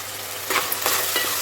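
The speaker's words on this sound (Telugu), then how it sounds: "టమాటా మంచిగా నూనెలో మంచిగా ఉడుకుతుంది" Tomatoes cooking in oil in a pan, a steady close sizzle broken by a few soft scraping stirs.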